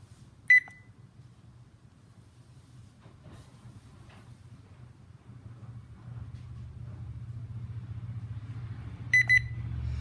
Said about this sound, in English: one beep means that it is recording. Two beeps mean that it's done.